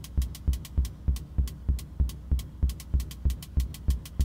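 Comparator-triggered synth drum hits from a Metabolic Devices 2win, regular low thumps paired with short bright hat ticks that drift in and out of phase, steady and close.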